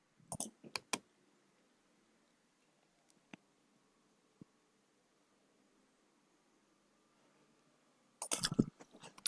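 A computer mouse clicks a few times while a software update installer runs, with a quick cluster of sharp clicks at the start, near silence, then another rapid burst at the end.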